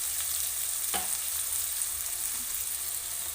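Sliced onions with salt fry in a pan for a chicken curry, a steady low hiss of frying running throughout with one brief scrape of a spoon, and no voices.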